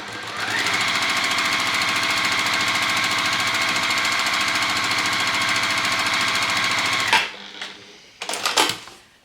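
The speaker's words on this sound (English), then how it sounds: "And we're just going to stitch that along." A JUKI sewing machine stitches a strip of quilt fabric, running steadily and loudly for about seven seconds before stopping, followed by a few brief handling clicks and rustles.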